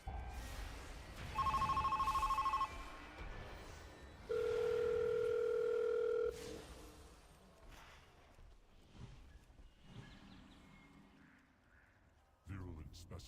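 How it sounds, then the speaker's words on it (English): Two distinct electronic telephone rings sound one after the other in World of Warcraft: a higher tone for about a second, then a lower, longer tone. Quieter game ambience and faint sounds follow. "it is two different ringing phone noises"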